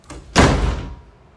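A door slams shut with one loud, close impact that rings out and decays over about a second, after a faint knock-like sound just before it.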